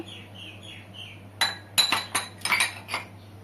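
A spoon clinks against a bowl while fuchka filling of coriander, green chilli, onion, cucumber and lemon is mixed, making a quick run of bright, close taps. Faint bird chirps sound before the clinking begins.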